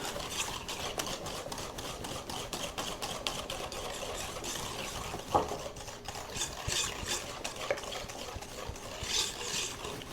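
Electric mixer beating brown butter chocolate chip cookie dough, a steady close whirring drone running throughout with small clicks and knocks from the bowl.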